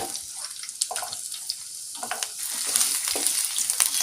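Two medium-sized onions go into hot oil in a pan, giving a soft, steady sizzle and crackle that builds slightly, with faint stirring and no talk.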